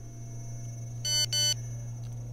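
A mobile phone rings in the horror video game Cry of Fear, two short electronic tone bursts in quick succession over a steady low hum, followed by a faint trailing blip.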